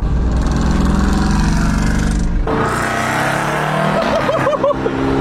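A McLaren 720S sports car engine drones loud and low while driving, then drops to a lighter hum with road noise as people talk briefly.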